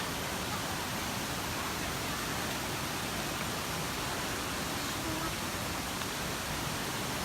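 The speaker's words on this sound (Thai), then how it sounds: "น้ำตกสวยจังๆ เย็นดีครับเย็นดี" Steady roar of a waterfall at a rocky cliff-side cascade in Chaiyaphum, Isan, Thailand, a dense, unbroken hiss of falling water filling the whole scene at constant loudness, with faint voices barely audible beneath it.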